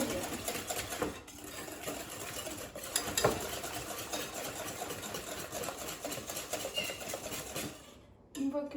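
A whisk beats eggs and sugar for a chocolate-vanilla marble cake batter, a steady rapid scraping and tapping in a bowl that carries on continuously, fairly faint and close.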